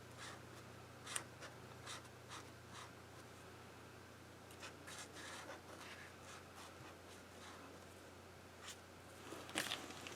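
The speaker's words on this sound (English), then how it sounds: "I'm just going to write it out" A pen moves across paper in faint, close scratching strokes, with short irregular taps and scrapes over a quiet room hum and no talking.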